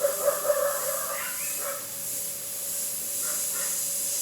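Small dogs bark and yip faintly in the distance behind a yard fence, a few short bursts early, then quieter ones, over a steady background hiss.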